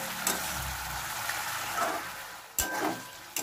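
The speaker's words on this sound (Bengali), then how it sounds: "এবার আমি মশলার পেস্টটা দিলাম। মশলাটা দিয়ে ভালো করে একটু কষাবো।" Spice paste for Bengali bhola fish curry frying in a pan, a steady soft sizzle with occasional stirring scrapes and clinks, close by and alone.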